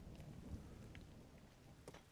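Steady rain with rumbling thunder and a sharp crack near the end, part of a video game storm; the downpour hisses evenly throughout with no voices.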